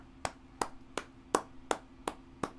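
Seven slow, evenly spaced claps from a single person ring out clearly over a quiet background with a faint steady hum, each hand strike sharp and isolated.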